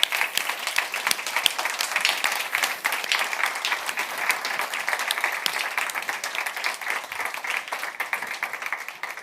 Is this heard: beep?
no